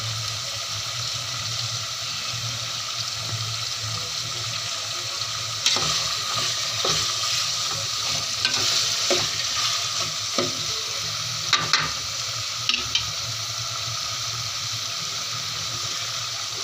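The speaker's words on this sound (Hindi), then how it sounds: "तो अब इसे टमाटर को गलने देते हैं ताकि अच्छी तरीके से टमाटर गल जाए।" Tomatoes cooking down in a frying masala for bhindi gosht make a steady close sizzle, with scattered spoon scrapes and clicks from stirring breaking through the middle stretch; no one speaks.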